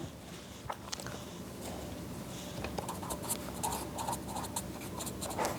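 Marker or chalk writing on a board during an accounting lesson, a steady run of soft scratchy strokes and short taps at close range with no talk over it.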